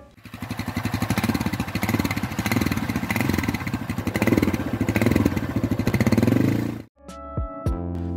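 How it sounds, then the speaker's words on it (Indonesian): A Yamaha Scorpio motorcycle engine runs steadily for several seconds with a rough, throaty idle, then cuts out briefly before sputtering back at lower revs. "yang membuat motor ini ikonik lagi adalah suaranya"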